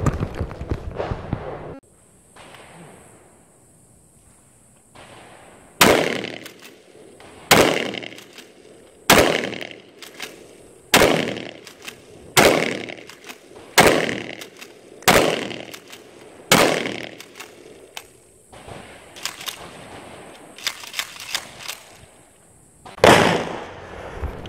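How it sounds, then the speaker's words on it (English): A Mossberg Shockwave shotgun firing Aguila minishells outdoors: about a dozen sharp, loud blasts at irregular intervals of roughly one to two seconds, each followed by a short decaying echo, after an initial quieter stretch. "I just fired 1 shot."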